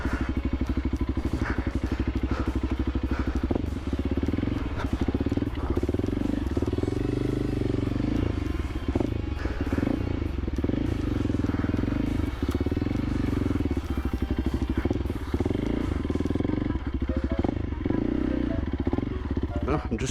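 A 2024 Honda CRF 300L motorcycle engine drones loudly and continuously as the rear wheel spins stuck on a log, with clattering knocks, low rumble, and a rider talking over it.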